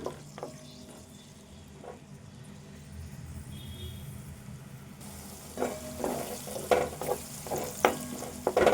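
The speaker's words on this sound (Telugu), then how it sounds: "ఇప్పుడైతే ఉల్లిపాయ వేగదాకా వేపుకోవాలి" Two medium onions with turmeric frying in a pan for Telangana-style boti curry: a quiet sizzle under scraping stirs, growing busier and louder toward the end, with no talk.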